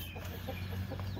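Backyard hens in a nesting-box coop cluck in a few soft, low, close pulses over a steady low hum, with no talk.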